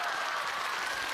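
Audience applause welcoming a singer onstage at a JD evening concert, a steady wash of clapping that holds level and moderately loud throughout with no talk over it.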